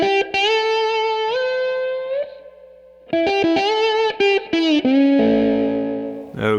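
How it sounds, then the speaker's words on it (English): Slide guitar in open E tuning plays a short lick of sustained, gliding notes, a pause, then a burst of quick picked slides ending on a ringing chord; loud, close and alone with no talking. "That's a huge step forward in being able to play slide guitar confidently, especially in this open E tuning."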